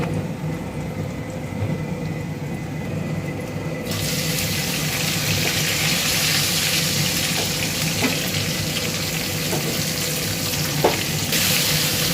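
Cumin, dried chilli and bay leaf frying in oil with chopped onions going in, a steady hissing sizzle that jumps louder as the onions are added, with a few small clinks.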